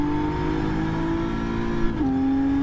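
Race car engine in a racing game at Fuji, a steady sustained drone with a clear pitch shift near the end as the gearbox drops a gear, close and loud with no talk.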